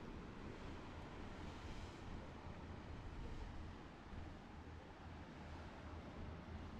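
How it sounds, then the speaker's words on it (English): Big ocean waves rolling onto the rocky Maine coast along Ocean Beach Trail in Acadia National Park, heard as a constant faint wash of surf with some wind rumble, no voices. "So we got big waves now that we've come around the bend."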